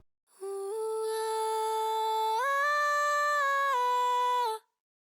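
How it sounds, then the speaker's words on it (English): Isolated ad-lib vocal track in an FL Studio mix, a single sung note held smoothly and stepping up in pitch midway, then dropping back before ending cleanly, heard alone with no backing. "The ad-lib by itself sounds like this"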